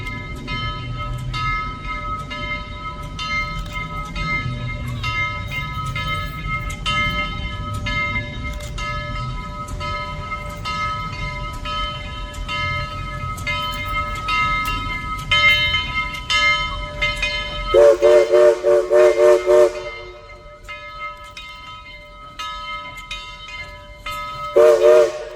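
Southern Railway steam locomotive 4501 rumbling past at close range, its whistle sounding through the passage and then blowing several loud, sustained blasts near the end as the rolling noise fades.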